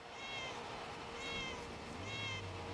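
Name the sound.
cat meowing car horn in Forza Horizon 5 video game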